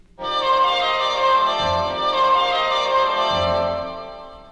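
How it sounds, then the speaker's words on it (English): A soft, sustained brass tone with a gentle, veiled timbre, like a muted trumpet, holding steady notes alone for a few seconds. "sometimes it can be played softly and sweetly when it is muted"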